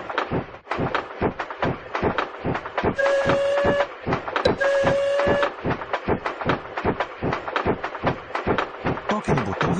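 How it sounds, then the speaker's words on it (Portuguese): A cartoon train in a Peppa Pig theme park game chugs along with a fast, steady mechanical rhythm, broken by two long whistle toots, loud and close throughout. "Toque no botão verde para fazer o trem andar."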